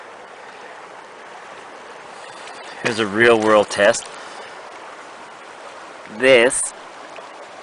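Molar Creek flows with a steady, soft rush of water throughout, while someone talks in two short bursts over it.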